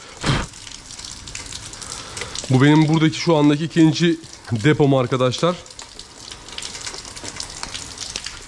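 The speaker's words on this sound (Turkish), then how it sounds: "Kusura bakmayın dışarıda şu anda felaket bir yağmur var." Steady hiss of heavy outdoor rain runs throughout, heard from inside a warehouse, with someone talking over it in the middle and a brief cough-like burst near the start.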